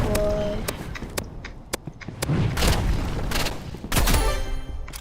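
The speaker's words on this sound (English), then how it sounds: "The burst rifle, that does crazy damage" Burst rifle fire in the Roblox game Rivals, sharp gunshot bursts cracking out repeatedly across the clip amid other game sounds, close and loud.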